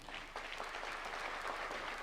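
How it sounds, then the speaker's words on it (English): Audience applause at a National Defence University graduation ceremony in Kenya, a steady, dense round of clapping filling the hall for about two seconds with no voices over it. "A round of applause, please."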